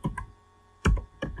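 Keys clacking on a computer keyboard while HTML code is typed: three short, close, clicky bursts with brief gaps between them.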